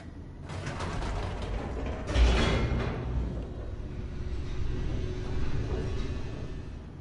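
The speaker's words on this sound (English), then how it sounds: "The elevator raced downward, plummeting towards an unknown fate." An elevator descends in The Stanley Parable, giving off a low mechanical rumble with clanking, ratcheting bursts near the start and a steadier grinding hum as it keeps moving.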